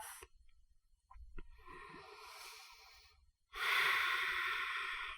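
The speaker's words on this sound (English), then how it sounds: "Take 1 more breath." Deep, audible breathing during a slow yoga flow: a long airy breath, a couple of soft catches, then a louder, sustained exhale close by, with no talking.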